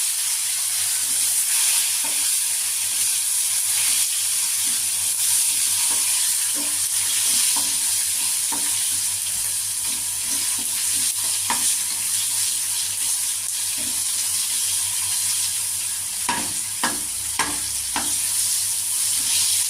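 Whole cumin and tomato sizzle in hot oil in a pan, a steady bright frying hiss running throughout with scattered scraping stir clicks from a spatula, loudest near the end.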